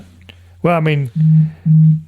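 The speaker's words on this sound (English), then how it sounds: "That's my phone." Phone alert tone sounding as a few steady repeated beeps, close and loud, following a brief burst of speech.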